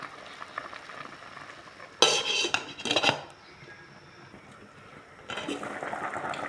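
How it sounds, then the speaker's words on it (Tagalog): A lid clatters onto a pot of fish soup with mixed vegetables and moringa leaves in a home kitchen, giving two short bright metallic clanks close by, then the soft simmer continues and a scraping rattle follows. "Ayan, takpan natin ulit guys."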